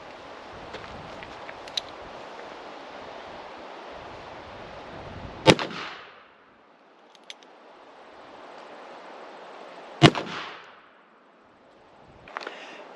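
Two loud, sharp gunshots from a modern smokeless cartridge loaded with black powder, spaced several seconds apart outdoors, each followed by a brief rolling echo over steady background hiss.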